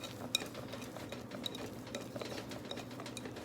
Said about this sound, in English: we're gonna whisk this good until it all blends together